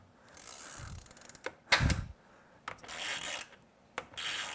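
An Allen wrench working a screw tight in a wiring setup, with scraping, rasping turns and a few sharp metallic clicks in uneven bursts, close to the microphone and without speech.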